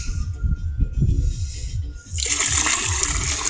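Water is filled into a container: low handling rumbles come first, then a loud, steady rushing pour begins partway through and continues to the end, close by.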